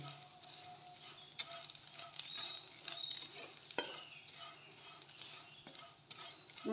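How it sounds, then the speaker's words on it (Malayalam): Vermicelli is roasted in ghee in a pan over a low flame, a quiet sizzle under frequent scraping and tapping strokes of a spoon stirring it close by. "ആ നെയ്യിൽ തന്നെ വറുത്തെടുക്കുകയാണ്"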